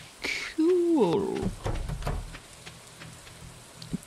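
Steady rain in the video game Stardew Valley patters in the background while chicken chirps and clucks rise over it, with a soft thud near the end.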